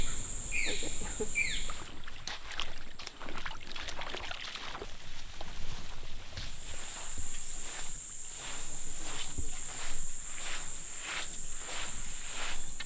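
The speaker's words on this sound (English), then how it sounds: "So when you hear the cicadas, it means it's going to rain." Loud, shrill cicadas buzz in long high-pitched waves, fading briefly and then returning strongly over quieter outdoor background sounds near a lake in the jungle around Cartagena, Colombia.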